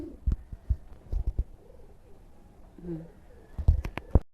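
A pigeon gives a few soft, low rolling coos near the microphone, interspersed with brief thumps and handling knocks.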